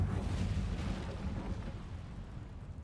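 An Incendio fire spell cast in Hogwarts Legacy, a deep booming whoosh of flame that starts loud and rumbles away gradually over a few seconds, with no talking.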